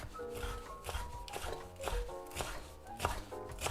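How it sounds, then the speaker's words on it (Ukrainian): Knife chopping cilantro and parsley on a cutting board: a run of sharp, irregular taps close by, with faint background tones and no talking. "нарізаємо помідорчик. Так, далі кінза петрушка"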